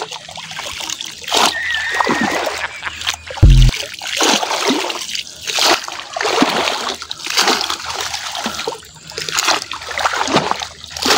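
Footsteps wade through deep water of unknown depth during an outdoor hunting trip, with repeated splashing and sloshing close by and one sharp thump partway through, as a voice speaks now and then.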